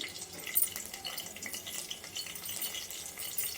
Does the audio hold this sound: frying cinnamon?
yes